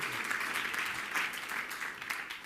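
Applause from an audience at a Serve America Act anniversary event: a steady wash of many hands clapping, moderately loud and sustained throughout with slight swells.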